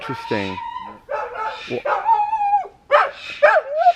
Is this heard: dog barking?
yes